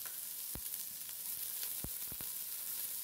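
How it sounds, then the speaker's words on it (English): Onions and tomato sizzle in hot oil in a pan for a Guyanese gilbacka curry with green mango, a soft continuous frying hiss broken by a few sharp pops and crackles. "Let that get really hot before we add the onions and the tomato."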